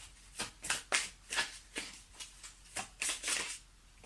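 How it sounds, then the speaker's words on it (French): Lenormand fortune-telling cards are shuffled and handled close up in a run of quick, soft, papery riffles and flicks, coming in uneven bursts with no talking. "je vais y répondre avec le grand jeu de Mademoiselle Lenormand"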